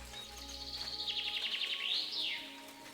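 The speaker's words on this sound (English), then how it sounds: "that's a loud as fuck bird" A loud bird call from the game Kingdom Come: Deliverance II sounds out as a rapid run of high chirping trills followed by a rising and falling whistle, close and clear over a low ambient hum.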